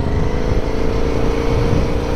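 A motorcycle engine runs loud and close while the rider cruises on the road, a steady, rumbling drone that stays fairly even in pitch throughout, with no voices.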